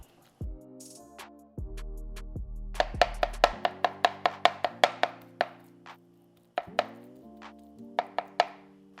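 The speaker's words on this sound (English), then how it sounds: "I'm gonna cut it now and make myself some taquitos" Knife cutting through tender cooked beef cheek on a board for taquitos, a run of quick, sharp taps and chops in an uneven rhythm, close and fairly loud, with no talking.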